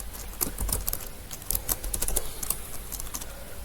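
Rapid, uneven keystrokes on a computer keyboard while text is entered into an HTML editor, a steady stream of close, crisp clicks with brief pauses.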